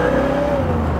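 A 1967 Chevrolet Camaro RS convertible engine hums steadily with a rising whine, a brief close rev with no talk over it.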